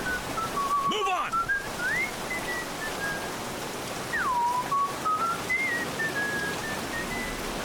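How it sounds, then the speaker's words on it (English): Whistling in the video game Aliens: Dark Descent, a few short rising and falling whistled phrases over a constant hiss of rain-like ambience, heard alone without speech. "Who's whistling?"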